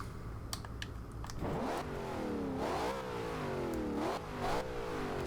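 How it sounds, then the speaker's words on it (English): A turbocharged V8 engine of a 2013 Ford Shelby GT500 in Forza Horizon 2 revs up repeatedly, rising and falling in pitch with several sharp throttle bursts, close and loud, after a few light clicks at the start. "I do love the sound of a V8 with some turbos in it"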